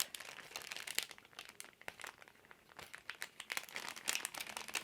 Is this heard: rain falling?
no